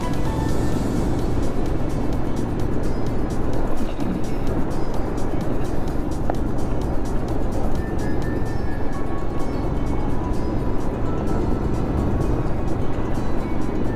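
A car drives along the dusty Panvel to Indapur stretch of the Mumbai-Goa highway, its engine and tyre rumble a steady, loud drone with road noise throughout and no speech.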